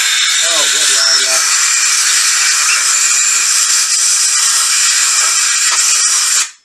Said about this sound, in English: The perfect air blower.